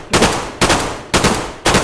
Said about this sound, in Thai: คุณทศยิงเลย